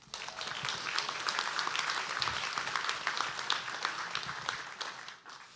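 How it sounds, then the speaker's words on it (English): A crowd at a guide dog school graduation ceremony applauds sponsors and supporters, with sustained dense clapping that holds steady for several seconds and then tapers off near the end. "give all these sponsors and our supporters a huge round of applause"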